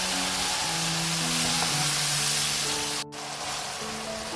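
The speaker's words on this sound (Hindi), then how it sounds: "लाल मिर्च पाउडर ऐड करेंगे और इसको भून लेंगे मसाले को" Spice masala of paprika, cumin, turmeric and red chilli powder frying in oil in a pan, a steady dense sizzle with a brief dip partway through, loud and close.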